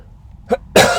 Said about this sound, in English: I hope that I didn't cough too much